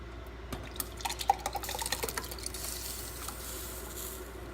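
Grape juice pouring into a pot while making Concord grape jam, a faint liquid trickle with small drips and splashes, fairly close with no talk.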